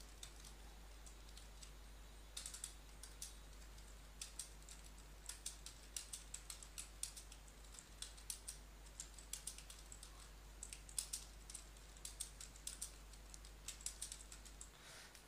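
Typing on a computer keyboard while editing text in Notepad, a steady run of close, crisp keystrokes in quick bursts with brief gaps, over a low steady hum, with no voices.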